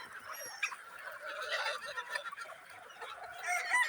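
Chickens cluck and squawk at a poultry sale, a busy flock of fowl calling over one another at moderate distance. The sound is fairly faint and continuous, and no one speaks.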